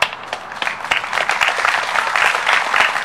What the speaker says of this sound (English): So you should give yourself a round of applause for everyone